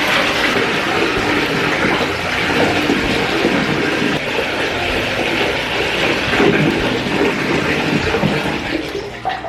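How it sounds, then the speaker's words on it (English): Water rushes steadily from a tap into a bathtub as hair dye is rinsed out, a loud continuous splashing flow with no speech. "I wanted to rinse out a majority of the hair product or the hair dye before I get in the shower"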